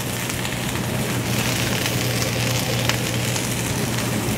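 Asparagus and Romanesco with garlic and shallot sizzle in a hot sauté pan, a close, constant crackling hiss with a low steady hum beneath.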